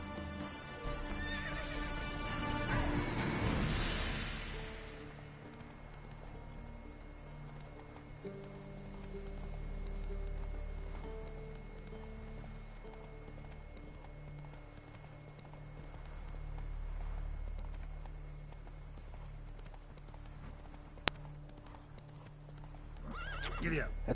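Roach, the horse in The Witcher 3, runs with continuous rhythmic hoofbeats and a neigh near the start, set against a low droning game soundtrack, with people talking over it.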